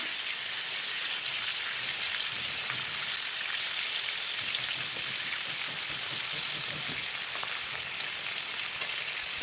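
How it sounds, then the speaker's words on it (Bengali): Hilsa fish wrapped in cabbage leaves fries in a pan over a medium-low flame, giving a steady, even sizzle and crackle that runs unbroken throughout with no talking. "এটা কিন্তু একদম মিডিয়াম লো ফ্লেমে আঁচে কিন্তু ভাজতে হবে।"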